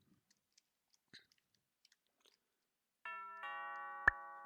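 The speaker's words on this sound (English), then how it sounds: "I never thought shops would have doorbells, but this one does." A shop doorbell chimes in the car-repair video game Wrench, a bright electronic ding-dong with sustained ringing tones that starts abruptly after a few soft clicks, followed by a sharp click.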